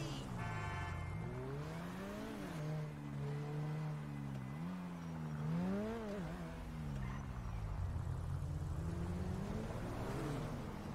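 A car in GTA 5 drives and revs, its engine note climbing and falling through repeated gear-like sweeps, steady and close, with no talking.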